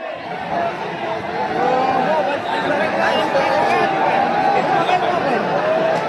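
Large, dense crowd at a celebration rally marking the end of a hunger strike, a loud continuous babble of many voices and chatter close around, with occasional laughter.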